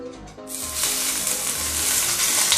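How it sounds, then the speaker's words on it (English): Hot oil hits steamed grouper with a sudden loud sizzle that keeps crackling and hissing steadily, close up, with no talking. "Can you hear the sizzling sound?"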